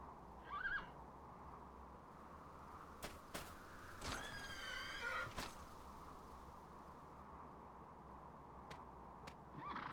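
A horse neighs in the Dragon Quest 8 video game, a bright whinny with a rising-falling contour in the middle, over steady ambient game background with a few short sharp effects.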